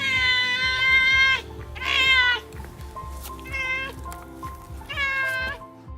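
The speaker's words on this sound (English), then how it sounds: "this one walked up to this house and started meowing loudly." A stray cat, apparently injured, meows loudly and repeatedly at a house in four drawn-out, strained calls with short pauses, close to the listener over a low background hum.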